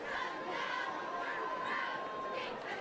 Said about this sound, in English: Great crowd on hand here tonight.